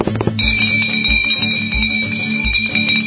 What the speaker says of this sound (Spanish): Voy a tocar la campana, como hacen en los teatros.